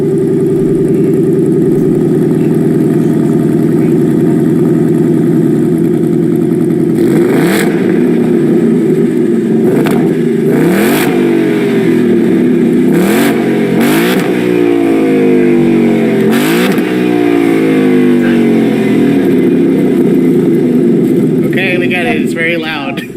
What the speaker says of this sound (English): So that V8 engine definitely sounds good.